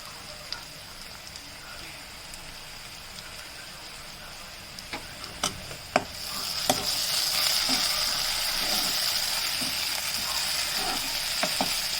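Onions with ginger paste frying in a pan for chicken curry, a steady close sizzle that swells louder about halfway through, with a few sharp clicks and taps of stirring.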